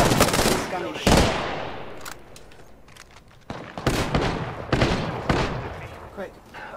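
Gunfire in the video game Apex Legends, with loud bursts of rapid automatic fire separated by short pauses and some brief single shots.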